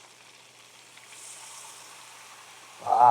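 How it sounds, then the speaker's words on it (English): Steady hissing sizzle of beef broth hitting a hot pan, building slightly, ending with a louder burst of noise. "Listen to it sizzle."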